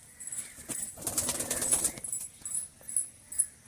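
Pigeons in a home loft flap their wings in a brief flurry and give soft coos, close and fairly faint, with scattered rustling and no speech.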